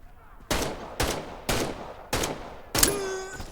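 Five evenly spaced gunshots from the video game Medal of Honor: Above and Beyond crack out about half a second apart, loud and close, the last followed by a ringing metallic tone.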